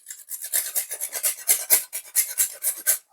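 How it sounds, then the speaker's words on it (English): Fresh nutmeg is rasped against a grater in quick, rhythmic strokes, close and crisp, with no talk. "fresh grated nutmeg. So I'm just going to get a grater."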